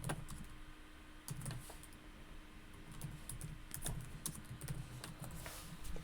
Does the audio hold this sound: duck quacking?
no